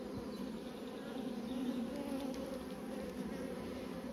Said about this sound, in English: There's quite a few bees in there for what I shook in there though.